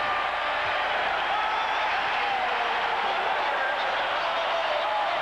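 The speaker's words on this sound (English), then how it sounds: "They are standing and cheering the Bulls" A packed arena crowd cheers the Bulls against the Lakers in Game 1 of the 1991 NBA Finals, a loud, unbroken roar of voices and applause that holds steady throughout, with commentary faintly underneath.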